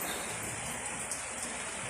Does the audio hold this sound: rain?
yes